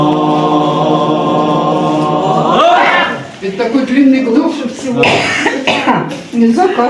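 Several sharp coughs burst out in quick succession from a person during a breathing exercise led by a doctor, following a long held sung tone, close and loud, with some throat clearing mixed in.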